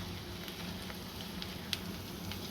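Onion and carrot sautéing in a pan as filling for cabbage rolls, giving a steady, soft sizzle with faint crackles throughout and no voices.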